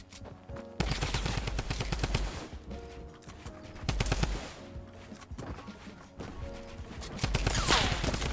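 A drum rifle fires in a video game: several loud bursts of rapid automatic gunfire, separated by short pauses, with nothing else heard.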